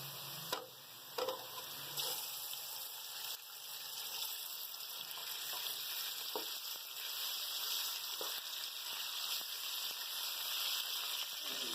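Minced meat (keema) hitting a hot pan, a steady bright sizzle and hiss that starts with a few brief clatters and then fries continuously at moderate volume with no talking over it.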